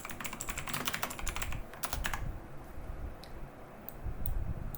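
Someone types on a computer keyboard while entering text into an Excel cell, producing quick clusters of close key clicks, then a few sparse, isolated taps.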